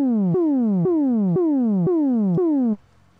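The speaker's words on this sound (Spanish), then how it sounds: "Que es el sonido más o menos como de una sirena o algo así." A buzzy synthesizer tone modulated by an LFO sweeps downward in pitch over and over, about six repeating falling swoops like a siren, loud and steady, then cuts off to near silence.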